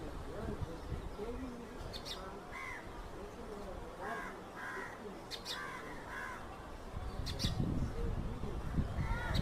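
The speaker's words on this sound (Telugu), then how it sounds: "పిచ్చుక అరుపులు చాలా బాధగా అనిపిస్తుంది" Bird cries from a sparrow in distress, loud harsh calls repeating in irregular bursts over a busy, noisy outdoor background that swells toward the end.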